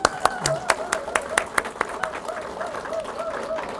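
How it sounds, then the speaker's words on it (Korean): Audience applause at a talk, sparse claps at first building into fuller clapping under an ongoing voice, moderately faint and steady. "박정희 대통령에서 박수 한번 칠까요?"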